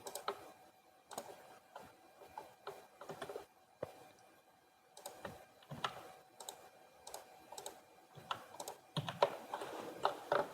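Computer keyboard typing while entering an AutoCAD command, with quiet close clicks in short irregular bursts and brief pauses between them.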